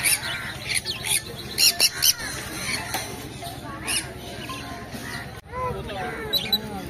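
Albino rosy lovebirds, a breeding pair with chicks at a pet market in Naihati, give sharp repeated squawks and chirps amid other caged birds, with people talking nearby.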